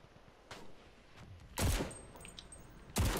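Gunfire in the video game Cuisine Royale: a few sharp, separated shots, two of them loud bursts, over a faint quiet background.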